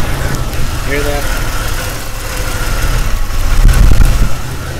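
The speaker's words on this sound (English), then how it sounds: "I don't know if you can hear this engine, but it is literally about to shut off." A Jeep engine with a bad crank sensor idles roughly and stumbles as if about to stall, a steady low rumble that swells slightly toward the end, heard up close.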